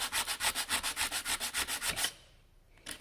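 Sandpaper rubbed over a rusty knife part in fast, even back-and-forth strokes, about a dozen rhythmic rasps close up. It then stops briefly before one more scrape.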